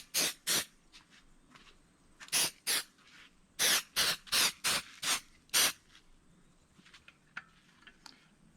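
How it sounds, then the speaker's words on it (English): Mold release sprayed from an aerosol can onto a rock, heard as a series of short, sharp hissing bursts, some single and some in quick runs, close up with quiet pauses between them. "First thing I do is spray a mold release onto my rock."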